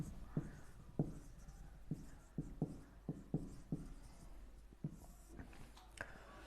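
Marker or chalk writing on a board: a rhythmic series of short scratchy strokes, about a dozen quick taps and scrapes, close and fairly quiet, with no speech over them.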